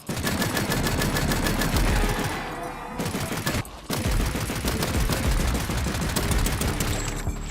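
Rapid sniper and gunfire bursts in the Wild West video game Far Far West, loud and dense, with repeated sharp shots rattling almost continuously and one short lull partway through.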